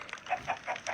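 Chickens cluck in the video game Island Craft, a run of short, bright, repeated clucks about four in a second, steady and moderately close with no talk.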